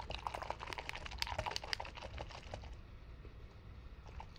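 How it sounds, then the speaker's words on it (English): A paintbrush swished and tapped in a cup of rinse water, a quiet run of small clicks and light splashes over a faint background hiss, with no talking. "then I'm going to rinse this brush"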